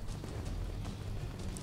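Horse hooves galloping in the video game Skyrim, a steady, dense run of clopping beats heard alone over a low rumble, continuous and fairly loud throughout.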